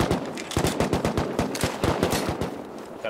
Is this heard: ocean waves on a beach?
no